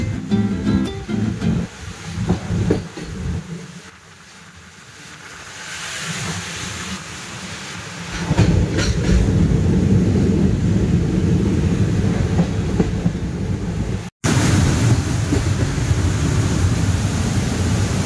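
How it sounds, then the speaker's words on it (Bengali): A passenger train rumbles across the Farakka Barrage over the Ganges, a steady loud rolling roar with a quieter dip early on, then a heavier sustained drone and a sharp brief cutout near the end, no voices. "ফারাক্কা ব্যারেজ পার হচ্ছে আমাদের ট্রেন এখন।"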